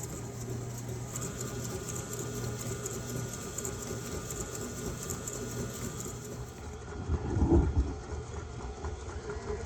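An electric mixer churns a thick, fridge-cold mixture of brown sugar and molasses, giving a steady close mechanical whirr that stays even and strains a little louder near the end.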